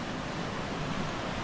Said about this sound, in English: you could hear the ocean outside our door